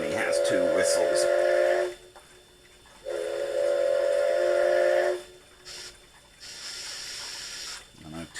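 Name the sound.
model train sound unit steam whistle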